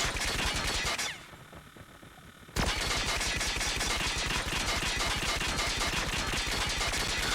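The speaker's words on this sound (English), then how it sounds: "now we have, of course, the actual ICR. It's basically a slow fire rate, longer range gun" Rapid bursts of ICR-1 rifle fire in the mobile shooter game Call of Duty Mobile, loud and close, with a brief pause near the start before a sustained string of sharp, evenly spaced shots.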